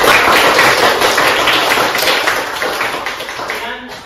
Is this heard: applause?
yes